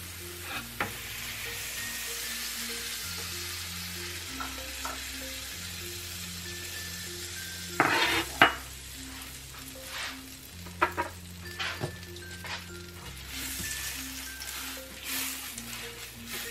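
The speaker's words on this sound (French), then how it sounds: "La plancha est chaude. Je vais juste faire un petit peu comme ça de beurre." Butter sizzles on a hot plancha griddle before pancakes, a soft continuous frying hiss with a few sharper scraping clatters midway, close and without talk.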